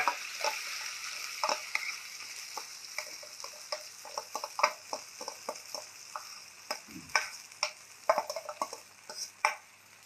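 Spices for tempering crackle and pop in hot oil while making brinjal chutney, sharp irregular snaps over a faint sizzle, with an occasional clink of a utensil.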